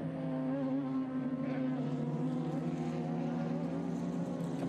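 A Radical race car at NOLA during a Radical Cup feature race, its engine droning steadily and loudly at a constant pitch for the whole stretch as it runs down the main straight. No one talks.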